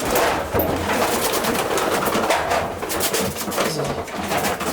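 Racing pigeons in a loft coo and rustle steadily, a dense, continuous flock murmur filling the space at close range, with no voices over it.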